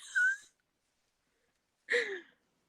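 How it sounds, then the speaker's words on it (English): Two soft, breathy snores separated by a long silence, quiet and close, with a wheezy rasp on each breath. "If you hear snoring in the background"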